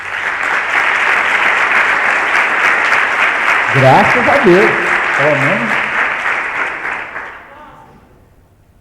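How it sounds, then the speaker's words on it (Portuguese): Church congregation applauding in praise of Jesus for a member's life: loud, sustained clapping for about seven seconds that then fades out, with a voice speaking over it midway. "Um aplauso para Jesus pela vida dele."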